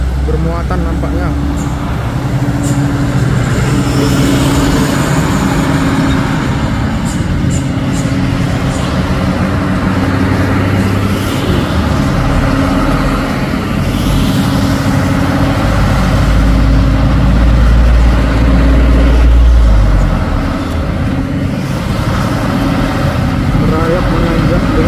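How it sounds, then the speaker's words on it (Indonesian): A loaded Fuso container trailer truck climbs a hill with a heavy, droning diesel engine. Road noise runs continuously underneath, and the low rumble swells around the middle of the climb while someone talks over it. "Truk trailer kontainer Fuso bermuatan nampaknya."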